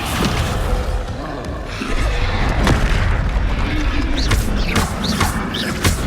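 Fiery Confringo spell blasts boom in the video game Hogwarts Legacy, set within a dense, continuous wash of game sound, with several sharp cracks and bursts toward the end.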